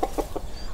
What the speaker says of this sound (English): three hens come to peck at the bare earth